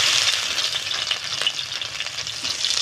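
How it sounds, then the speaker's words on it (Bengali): Crushed garlic fries in hot oil, producing a loud, dense crackling sizzle with continuous spattering pops at close range and no voices. "তেলের ভিতরে আমি রসুন থেতো করে আমি দিয়ে দিচ্ছি"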